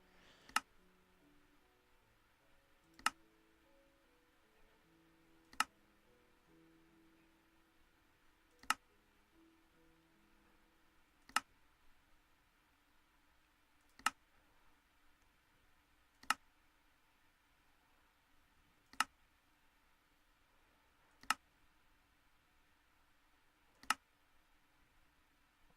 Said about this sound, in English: I'm just going to click through the pages here real quick